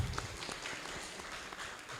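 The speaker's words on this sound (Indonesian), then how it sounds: "tepuk tangan dulu buat Bu Mei" A campus audience applauds a guest speaker, a soft, dense patter of many hands clapping continuously at a modest level without any voices.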